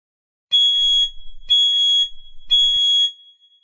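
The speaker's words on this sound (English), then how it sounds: "The smoke detectors are going off." Smoke detectors in an animated cartoon sound three loud, evenly spaced electronic beeps, each lasting about half a second, with short gaps of near silence between them.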